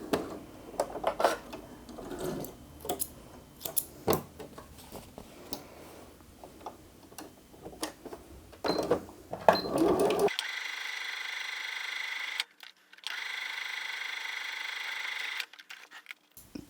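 Sewing machine stitching fabric for an Easter bunny-ear bag, with quiet clicks and handling at first, then a steady whirring run of stitches broken by a short pause.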